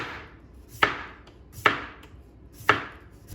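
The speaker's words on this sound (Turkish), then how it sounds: "İnce ince patatesleri doğramaya başlıyorum önce." A knife thinly slices potatoes on a cutting board in three sharp, evenly spaced strokes, close up and crisp, with nothing else going on.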